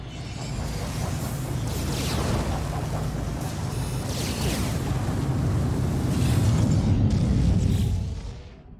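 Weapon fire and explosions in No Man's Sky form a dense, rumbling wash of booms and bursts, steady and loud for several seconds before tapering off at the end.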